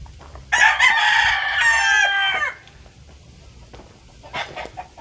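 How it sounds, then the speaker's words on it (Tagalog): Chickens at a gamefowl breeding farm, with a loud, close crowing burst of about two seconds followed by quieter scattered clucks over a low background hum. "Nandito yung mga pullets."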